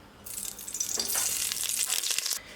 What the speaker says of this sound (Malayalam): അപ്പോൾ നമുക്ക് വെളിച്ചെണ്ണ ഒഴിച്ച് കൊടുക്കാം